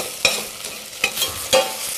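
Spoonful of spice mix tossed into onions frying in a pan for Indian red lentils, heard as three sharp stirring scrapes over a steady, close sizzle, with no talking.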